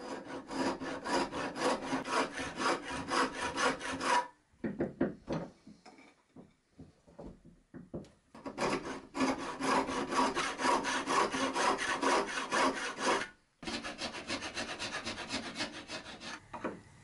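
Hand sawing and filing on small oak tenons for drawer runners in a bedside table, with long bursts of steady rasping strokes broken by short pauses and a few scattered knocks, close and clear with no talking.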